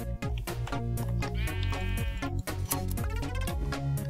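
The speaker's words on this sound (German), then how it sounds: "Ist da wieder irgendwo ein Schaf?" A sheep bleating in the video game Minecraft, modded FTB Ultimate pack, its wavering cries repeating over a busy, loud game soundtrack with no talk.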